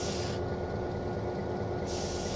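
A train rumbles steadily in the Trainz 2022 simulator on the Australian Orbost route, with a constant broadband roar and a thin mechanical tone running throughout, no voices.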